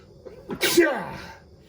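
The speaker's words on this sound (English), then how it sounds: "I gotta sneeze." One loud, close sneeze, a quick inhale followed by a sharp explosive burst.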